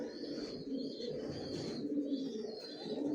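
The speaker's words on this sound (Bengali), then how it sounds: "শুধু আপনাদের ধারণা দেওয়ার জন্য এই অ্যাডাল্ট কবুতরগুলো দেখাচ্ছি।" Adult racer pigeons coo steadily at close range in a large loft, their low rounded calls overlapping continuously without pause and with no speech.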